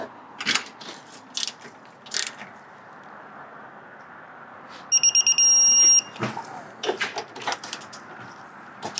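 A torque wrench ratchets on bolts of a 2009-2013 Audi A4 B8 continuously variable transmission, giving one short, rapid burst of close clicks midway, surrounded by scattered metallic clanks and handling knocks.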